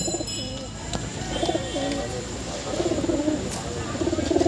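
Belnangar pigeons coo repeatedly in low, throaty burbles close by, several birds overlapping over a steady background hum.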